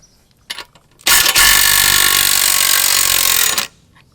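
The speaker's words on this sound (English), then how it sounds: "Next up, you want to use a 27mm socket to loosen up your axle bolt." A 27mm socket on a power tool loosens the rear axle bolt of a Yamaha R7 motorcycle during chain adjustment. A couple of small clicks come first, then one loud, continuous buzzing whir of about two and a half seconds, with no talk.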